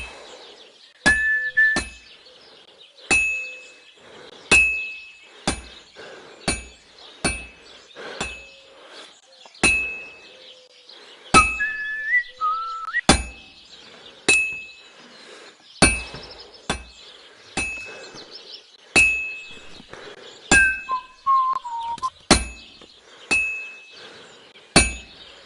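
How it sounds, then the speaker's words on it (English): Metal hammered on an anvil at a forge in Kingdom Come Deliverance 2, sharp ringing clangs struck in irregular bursts of two or three with fading metallic ring between strikes, close and loud. "I have to hammer it more evenly."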